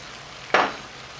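Leftover pork hits a hot pan in a Thai stir fry, a single sudden sizzle that bursts loud and fades over a fraction of a second.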